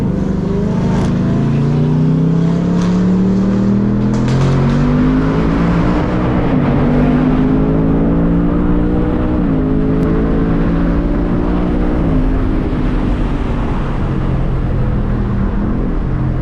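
A 2024 Ford Mustang GT roars hard under sustained acceleration at night, its engine note climbing steadily through the gears with brief dips at each shift, loud and close from inside the car while racing a Stage 2 BMW M340i.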